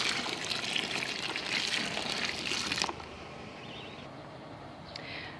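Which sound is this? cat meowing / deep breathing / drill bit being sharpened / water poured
water poured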